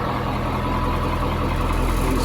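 An old bus diesel engine idling up close, a steady loud low-pitched rumble with an even mechanical throb throughout.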